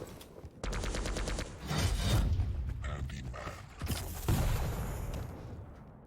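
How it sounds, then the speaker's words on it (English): Rocket launcher fire and explosions in a Quake Champions pro league match, a dense run of blasts and rapid shots with booming impacts and sharp bursts over several seconds, loud and close. "a good rocket from both players"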